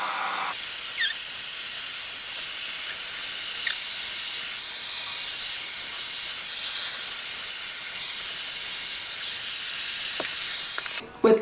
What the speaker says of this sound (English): I do like to let my puppies check out the hairdryer before I use it on them